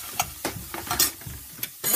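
Onion and chopped almonds sauté in a little oil in a pan, giving a soft sizzle with intermittent scraping stirs, quiet and close.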